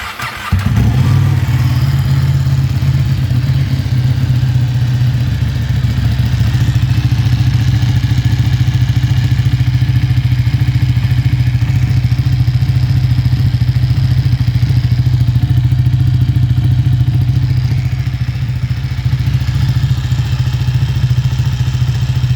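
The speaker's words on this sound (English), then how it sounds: "This is a cold start." A 2012 Ducati Panigale 1199S Tricolore motorcycle cold-starts after a brief crank, settling into a loud, steady, rumbling idle that holds evenly for about twenty seconds, close to the machine and with no talking.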